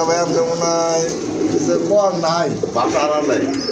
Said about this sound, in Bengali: অনেক বড় সাইজের কবুতর, আর বাচ্চাটাও কিন্তু খুবই সুন্দর, হেলদি একটা বাচ্চা